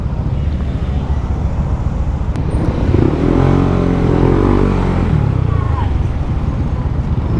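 A Honda ADV150 scooter engine hums steadily while riding, swelling louder in the middle under wind rush, with a rider talking over it.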